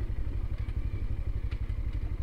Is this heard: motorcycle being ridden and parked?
yes